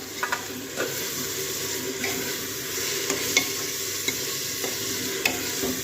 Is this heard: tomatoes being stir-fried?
yes